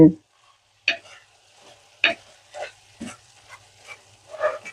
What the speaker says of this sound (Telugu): ఒకసారి కలుపుదామండి చూసారా ఎంత నీరు వచ్చింది